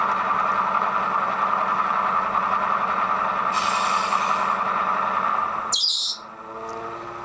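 A model railway Deltic diesel locomotive's engine sound plays through a small onboard speaker: a steady, droning burble with a constant tone that runs unbroken for several seconds before dipping briefly and carrying on.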